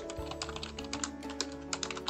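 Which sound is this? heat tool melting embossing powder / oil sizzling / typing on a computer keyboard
typing on a computer keyboard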